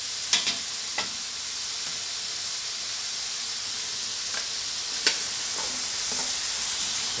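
Pork belly stir-fried in a hot pan, a steady bright sizzle of frying fat with occasional scrapes and taps of a spatula against the pan, close and continuous, no talk.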